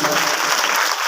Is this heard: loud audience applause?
yes